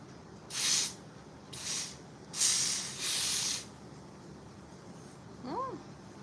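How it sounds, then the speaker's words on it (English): Four quick bursts of a spray bottle misting a wig hiss in an uneven rhythm, close by, followed by a faint short squeak. "I'm gonna just take my spray and spray it down one more time"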